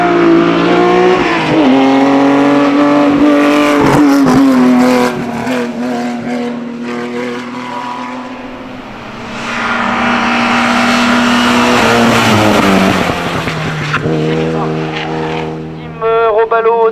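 An Alfa Romeo Giulietta GTV race car climbing a hill during a historic hill climb, its engine revving hard through gear changes, fading away mid-clip and then roaring back close by, with a commentator talking over it.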